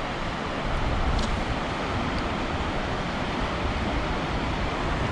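A river near Rainbow Falls, Ontario, rushes in a loud, constant roar of broadband water noise, close and unbroken throughout.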